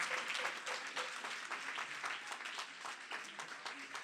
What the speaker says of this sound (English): Let's give him a round of applause, Reverend Sharpton.